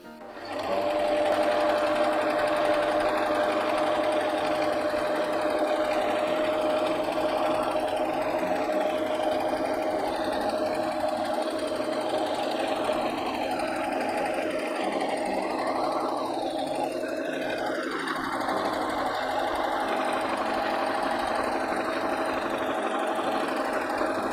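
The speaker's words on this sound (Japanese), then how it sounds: "ミシンで仕上げます。" A sewing machine runs steadily and continuously, stitching kimono fabric for a cushion, its fast mechanical stitching whir close and loud, with a brief pause and restart partway through.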